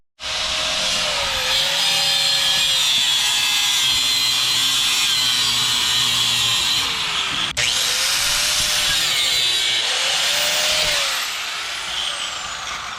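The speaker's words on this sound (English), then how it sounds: "Oh, so you just cut the line." A power tool cuts through a car's power steering line during an electric power steering install, a loud continuous whine running for about eleven seconds with a brief break midway before trailing off.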